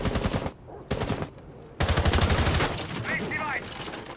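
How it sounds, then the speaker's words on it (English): Random gunfire blasting through a wall during a competitive Rainbow Six Siege-style tactical shooter match, heard as loud rapid bursts with short gaps between them, followed by sustained game noise. "Random gunfire going out through the wall"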